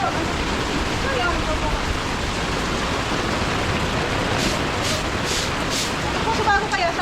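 Strong typhoon wind and driving rain roar in a steady broadband wash during Typhoon Uwan, loud and continuous for the whole stretch, with faint voices near the end.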